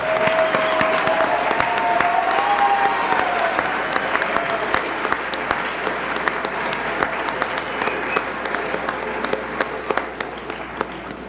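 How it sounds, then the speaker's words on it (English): Sustained applause from a crowd at a school district board meeting, steady dense clapping throughout, with a few faint voices mixed in. "Give them a big round of applause."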